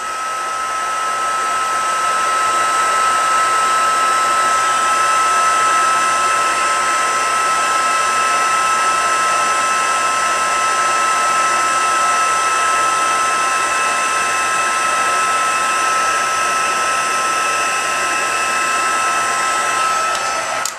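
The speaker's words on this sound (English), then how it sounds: "my heat emboss tool, and I'm just going to go ahead and emboss this" A heat embossing tool blows hot air in one steady, loud, close whir for about twenty seconds, with a whistling tone on top and no pauses, cutting off sharply at the end.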